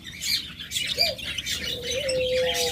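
A pair of yellow lutino pet birds, red-eyed lovebirds kept for sale, give short chirps and brief whistled calls close by, with a soft rustling background and no talk.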